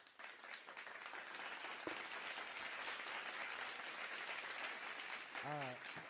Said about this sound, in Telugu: మీరు అందరూ కూడా సుశీలమ్మ గారికి ముందుగానే రాము సార్ తరఫున చప్పట్లు అందించవలసిందిగా సభనీయంగా మనవి